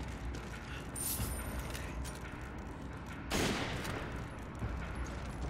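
Rapid gunfire from shooting enemies in Resident Evil 5, a dense continuous fusillade of shots with a louder burst partway through, steady and close throughout.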